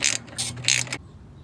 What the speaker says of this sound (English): Now we will untorque the slider pins on both sides.